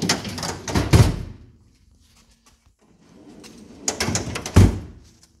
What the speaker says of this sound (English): And I'll just shut all the drawers.